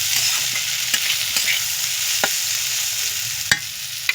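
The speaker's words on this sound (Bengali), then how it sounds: "এতে একে একে সেই সবজিগুলো সব দিয়ে দিলাম। দিয়ে এটাকে নাড়তে থাকবো।" Vegetables for sago pulao are stirred and fried in a pan, making a steady close sizzle broken by sharp scraping clicks of the spatula at irregular intervals, with no voices.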